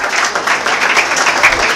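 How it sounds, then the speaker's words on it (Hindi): A crowd at a felicitation ceremony bursts into brief applause to welcome an arriving guest, a loud, dense wash of clapping lasting under two seconds with no speech over it. "जोरदार तालियों से उनका स्वागत करें।"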